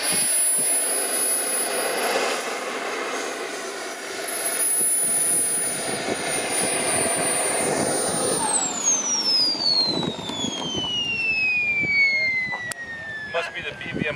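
Turbine-powered RC F-86 Sabre jet model with a King Tech K80 engine, its loud steady whine sweeping downward in pitch as it passes overhead, with faint talk in the background.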